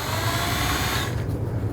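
Power tool whirring steadily up close while removing the bolt that holds the upper grille and bumper of a 2007–2011 Honda Civic, the motor cutting off shortly before the end.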